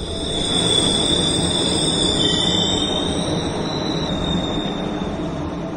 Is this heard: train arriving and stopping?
yes